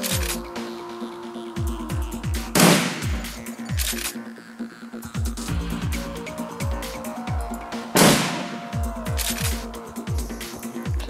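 Gunfire sound effects playing during a Shadowrun tabletop session, a rapid series of sharp, repeated shots in bursts with two louder blasts standing out, and no talking.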